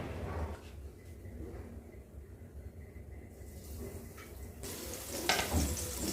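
Potato slices shallow frying in a little oil in a pan, a steady soft sizzle and crackle close by, getting louder and brighter near the end.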